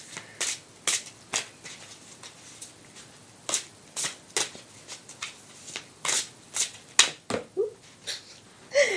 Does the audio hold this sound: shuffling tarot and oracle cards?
yes